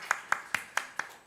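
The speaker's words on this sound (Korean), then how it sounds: "한 번 더 우리 박수하겠습니다" A small church congregation claps at a Sunday worship service, giving five evenly spaced, crisp claps about a fifth of a second apart, fairly close and moderately loud, with no talking over them.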